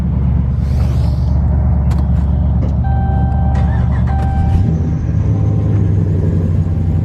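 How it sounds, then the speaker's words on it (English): A car engine with a brief belt squeal, heard as thin steady tones over a loud, close idling rumble for a few seconds. "a little belt squeal"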